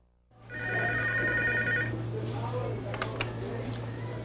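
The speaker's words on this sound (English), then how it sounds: "So what should we do the next time the phone rings?" A telephone rings at a discount store, a clear electronic ring burst that sounds once and then cuts off, followed by faint room noise and a steady low hum.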